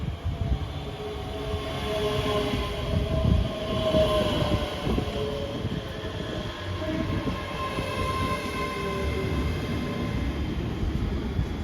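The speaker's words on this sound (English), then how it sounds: "Arriving in now is the 1503 ScotRail service from Dunblane to Edinburgh Waverley." A ScotRail class 385 electric train, unit 385029 on the Dunblane to Edinburgh Waverley service, rumbles steadily into Stirling station, close and continuous with faint wheel squeal over the rolling noise.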